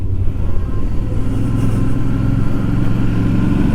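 A motorcycle engine holds a steady, loud mid-range drone and rises in a rev while pulling away on a hillside climb on the road up Mont Faron near Toulon, close and continuous with no talk.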